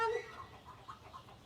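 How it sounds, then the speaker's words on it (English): A silkie chicken, a breed with feathered feet, clucks softly inside a chicken coop in a short, faint burst that trails off into quieter low murmurs. "this is a silky chicken"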